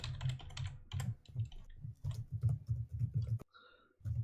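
Fingers type rapidly on a computer keyboard, close and continuous clicking with a brief pause near the end before the keystrokes resume.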